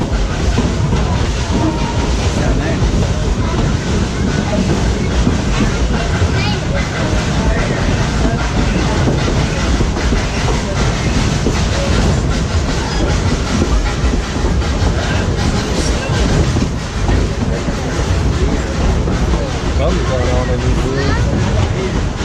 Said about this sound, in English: you're riding behind Tennessee's first steam train, the Tennessean